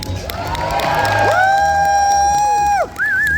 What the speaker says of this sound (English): Let's give a huge round of applause for Kaitlyn Robrock, the voice of Cinderella